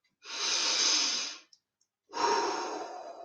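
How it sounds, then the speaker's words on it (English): Two long, deep breaths drawn in through the nostrils during a meditation session, each a broad airy rush lasting over a second, close to the listener and separated by a short pause, no talking. "breathing in through the nostrils, the breath of life"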